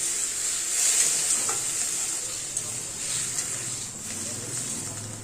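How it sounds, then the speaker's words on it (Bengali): Boiled peas stir-fried with spices in a pan for Bengali ghugni, a steady close sizzle with soft stirring scrapes throughout, faint voice-like murmur underneath. "এবার সিদ্ধগুলো মটরগুলো এর মধ্যে দিয়ে দেবো দিয়ে এবার ভালো করে আবার এটাকে কষাবো"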